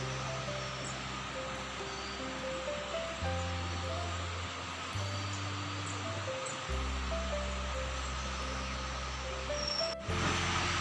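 A waterfall at a scenic spot in Munnar, Kerala, rushes as a steady broadband roar that never lets up, with a low droning hum shifting in pitch underneath.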